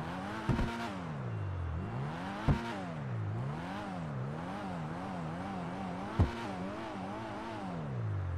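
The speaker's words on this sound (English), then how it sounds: "look at the interior and listen to how the car sounds." Small BF Club car engine in GTA 5 Online revving up and down repeatedly, harmonic whine rising and falling in waves with a few sharp clicks at gear shifts, close and steady, no talking.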